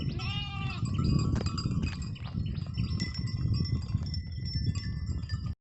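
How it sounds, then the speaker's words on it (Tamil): Sheep and goats of the Mayilambadi breed bleat repeatedly at a stream in the foothills of the Western Ghats, several overlapping calls close by over steady running water and a faint clink. "ரெண்டுமே கலந்துருக்கு, வெள்ளாடு இருக்குது, செம்மறி ஆடு இருக்குது."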